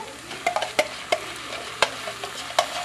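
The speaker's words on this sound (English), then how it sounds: "I'm adding in 1 can coconut milk." A can of coconut milk goes into a hot pan of curry vegetables, giving a low simmering sizzle broken by several sharp stirring clicks and scrapes at irregular intervals, close and without talk.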